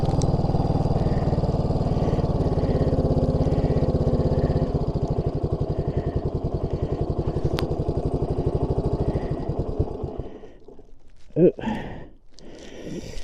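A 1980 Yamaha XT250 single-cylinder motorcycle idles close by with a steady, slightly uneven putter that slows and then cuts out, followed by a few moments of quiet handling noise and a brief voice.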